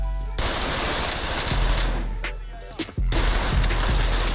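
Gunfire in Call of Duty Warzone, with loud, dense automatic bursts and rapid shots that cut off briefly before resuming, close and harsh, with no talk over it.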